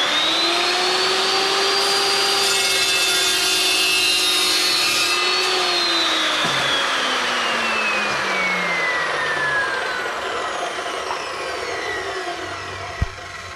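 A $649 chop saw cuts through wood, its motor whining loud and close at a steady pitch, then dropping as the blade bites in and spins down, ending with a sharp clack.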